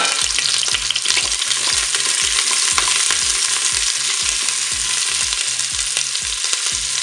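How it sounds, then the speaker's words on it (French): Beef meatballs sizzle and spatter in hot oil inside a Cookeo multicooker, a loud, steady frying hiss with repeated clinks of stirring running throughout, no voices. "l'huile est déjà chaude. Donc là, je vais tout de suite mettre mes boulettes de bœuf."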